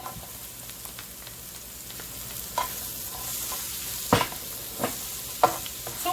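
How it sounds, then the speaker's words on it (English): Cabbage sizzles steadily in a frying pan while being stirred, with a continuous soft hiss broken by a few sharper scraping clinks of the utensil against the pan. "So we're going to go ahead and drop over our cabbage."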